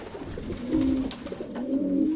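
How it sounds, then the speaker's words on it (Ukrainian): A pinkish domestic pigeon coos in two low, rolling phrases close by, with faint rustling between them. "Це рожевий голубок, зараз його спіймаю."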